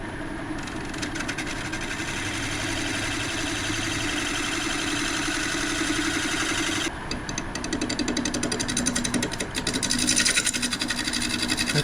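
A woodturning lathe cutting a spinning wood blank, a steady loud buzzing whir with a rough grinding, scraping texture that runs throughout and shifts in tone partway through.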